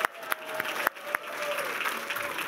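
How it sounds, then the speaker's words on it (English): A small crowd claps for municipal election candidates at a 2018 election-night gathering, a few sharp nearby claps standing out over a steady patter of applause in a room. "So let's give them a round of applause."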